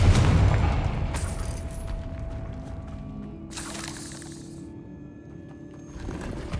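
A Confringo fire spell cast in Hogwarts Legacy, bursting with a crackling blast near the start and again around the middle, layered over rumbling game ambience and mechanical clatter.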